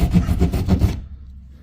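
Drywall saw rasping through a wall beside a wooden stud, quick close scraping strokes in a steady rhythm for under a second, then stopping abruptly into quiet room tone.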